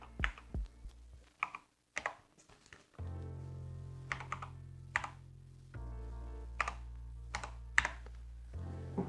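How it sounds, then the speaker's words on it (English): Fingers tap out a Wi-Fi network name and password on a computer keyboard, short uneven bursts of crisp key clicks with pauses between, close by over a low background hum. "type in your Wi-Fi name, gotta look it up, then type in your password"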